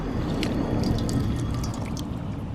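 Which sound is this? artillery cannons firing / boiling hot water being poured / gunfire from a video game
boiling hot water being poured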